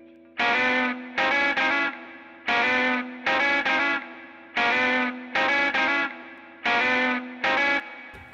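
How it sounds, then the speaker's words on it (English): Distorted electric guitar riff from a studio remake of a track, repeating in chopped, stabbing bursts with effects-laden tone, loud and alone with no talking. "the first part I just laid over the top there was that electric guitar riff thing."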